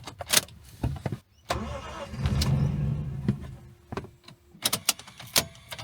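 Lexus IS200 engine cranking and catching after a stretch off the road, a mid-pitched engine turning over and running briefly among clicks, clunks and door or window noises, close and fairly loud.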